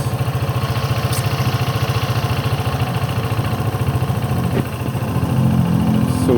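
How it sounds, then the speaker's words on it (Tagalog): A Filipino ATR 160 motorcycle engine, freshly changed oil, idles steadily and close with an even, rapid putter, a slight rise in level near the end. "Mas lalong gumanda yung tunog ng makina ng motor ko."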